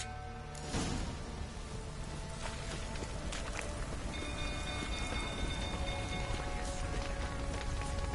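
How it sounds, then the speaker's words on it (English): Rain falls steadily in The Witcher 3, a dense hiss with soft patter. Faint tonal game ambience and occasional clicks sit underneath, and the level stays even throughout. "Looks like rain."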